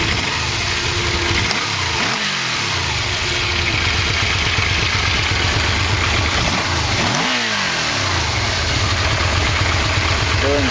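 Yamaha VMAX motorcycle engine with freshly synchronized carburetors idling steadily up close, with a couple of brief revs rising and falling, continuous and loud throughout.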